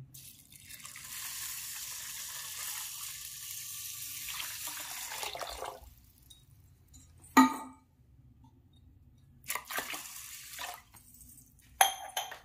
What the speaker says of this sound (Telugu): ఒక పాత్రలోకి తీసుకున్న తర్వాత దానికి సరిపడ్డ నీళ్లు పోసుకోవాలి.